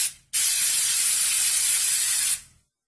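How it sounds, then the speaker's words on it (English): One continuous hiss of an aerosol spray can, lasting about two seconds, close and loud, starting and stopping abruptly. "Hurry, get the spray cans."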